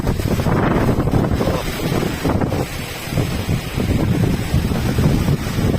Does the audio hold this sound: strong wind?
yes